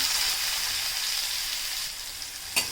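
Finely chopped onion fries with cumin in hot oil in a pan for a Konkan-style padwal bhaji, a dense steady sizzle throughout, ending with one sharp utensil knock.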